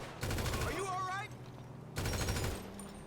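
Bursts of rapid gunfire from GTA Online, a sustained volley followed by a short lull and then another loud burst, with some voice-like sound partly mixed in.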